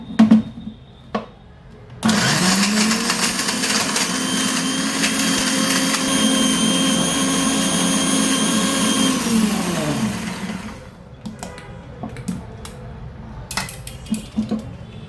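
A kitchen mixer grinder whirs loudly for about eight seconds, grinding dried coconut slices, tamarind and black pepper into paste, then winds down, with lid and jar clatter before and after.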